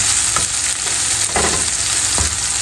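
Onions and carom seeds frying in a pan make a dense, close, continuous sizzle, with a few soft stirring knocks scattered through it.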